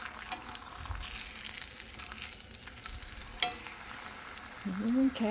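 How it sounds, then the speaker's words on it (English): Corn tortillas fry in a little olive oil over medium heat, a moderate sizzle with a few clatters from the pan. Running water from a tap joins near the end, and a voice speaks briefly. "to fry some corn tortillas. Just a little olive oil, and I'm on medium"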